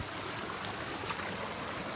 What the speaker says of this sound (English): I've even got a little waterfall here